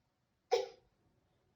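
A young child gives a single short cough indoors, close and clear, followed by near silence.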